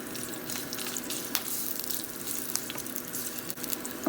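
Ginger frying in hot oil in a pan, a steady close sizzle with scattered crackles and small pops, heard alone without talk.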